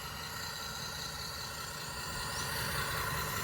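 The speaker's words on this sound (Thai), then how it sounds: "เดี๋ยวทำการถอยรถไถมาก่อนนะครับ" A remote-controlled toy tractor reverses with a faint, steady motor drone and whine that holds on without any talking.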